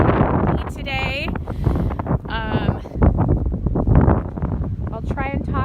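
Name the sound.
strong wind blowing on the microphone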